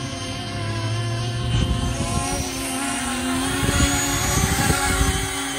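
An E-Flite Convergence VTOL RC aircraft flies outdoors in a light side wind, with a steady buzzing whine from its electric motors and propellers that shifts slightly in pitch as it hovers and drifts.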